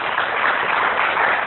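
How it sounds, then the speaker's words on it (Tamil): A church congregation claps together during a Tamil sermon, a dense, steady wash of hand claps that holds evenly for the whole short stretch, with no voice rising above it. "கைதட்டுகளை பார்ப்போம்."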